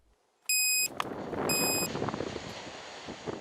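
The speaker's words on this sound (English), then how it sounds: "Our radiation monitor raises the alarm." A radiation monitor in the exclusion zone around Futaba sounds two bursts of high, piercing alarm beeps, loud and close, over rustling wind noise.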